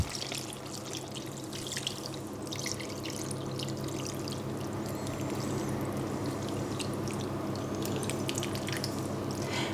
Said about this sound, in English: add just a tablespoon only of tomato paste and enough stock just to barely cover the meat